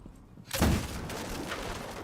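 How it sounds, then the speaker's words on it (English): An explosion in Rainbow Six Siege X goes off with a sudden loud broadband burst, then a sustained rumbling roar of debris and noise that stays fairly loud for over a second. "Jensen definitely does hear that explosion."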